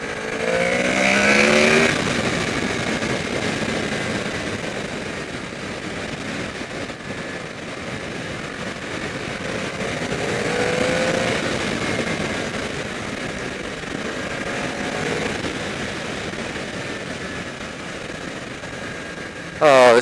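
A 2014 Honda VFR800F with a V4 VTEC engine and race pipe rides past on the road, its engine note rising and falling steadily under heavy wind rush for the whole stretch, with a brief loud burst at the very end.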